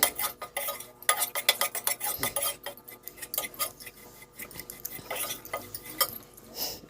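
Milk powder mixture for Dharwad peda stirred in a pan, a dense run of close scraping and clinking of a utensil against the metal, repeated strokes with a faint sizzle beneath, no talking.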